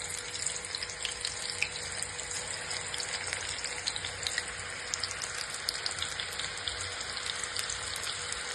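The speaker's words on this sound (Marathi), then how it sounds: "आता आपलं तेल तापलंय। आता आपण भजे टाकून घेऊया।" Spinach bhaji fritters fry in hot oil with a steady, close, dense sizzle and bubbling that holds at an even level throughout.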